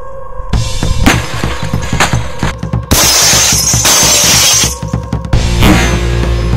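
The thick glass of an old CRT television is smashed, giving loud crashing and shattering bursts with tinkling debris, several heavy impacts in a row close up and with no talk.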